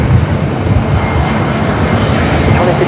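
A loud, steady roar from an airliner taking off at Los Angeles International Airport, a broad rumbling engine noise heard close and continuous.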